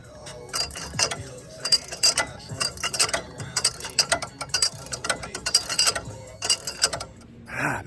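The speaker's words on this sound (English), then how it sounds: "I think I just gotta take this sway bar link off, and then that whole spring could come out" Ratchet clicking in repeated bursts while removing a sway bar link on a Dodge Ram pickup's suspension outdoors; close, loud rapid pawl clicks in uneven runs with short pauses between strokes.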